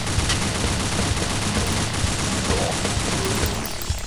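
Dense, rapid assault rifle fire rattles on continuously in the Deadhunt shooter game, a loud sustained fusillade of overlapping shots with no pauses and no voices.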